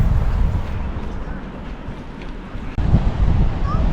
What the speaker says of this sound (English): Beautiful sound of the ocean.